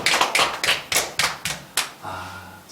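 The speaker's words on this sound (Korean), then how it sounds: "우리에게 은혜 주신 하나님께 영광의 박수 올려드리겠습니다." A church congregation at a Sunday worship service claps in unison: about eight loud, evenly spaced hand claps that then stop, leaving a low hum.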